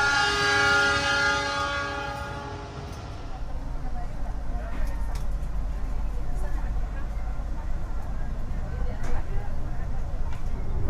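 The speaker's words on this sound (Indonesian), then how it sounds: "kereta api Taksaka sudah diberangkatkan dari stasiun Gambir ya" A long, loud train horn sounds, then fades into a steady low rumble and rattling as the Taksaka passenger train pulls away from Gambir station and rolls along the tracks.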